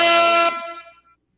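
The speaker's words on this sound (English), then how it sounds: "I gotta hit the air horn for that." A single loud, blaring air horn blast, brassy and sustained for about half a second before fading out.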